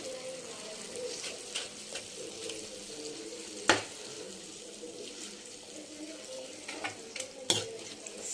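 A red chilli chutney with fried onions is stirred in a pan off the heat, with a soft sizzle beneath and a few sharp spoon-on-metal clacks at irregular intervals.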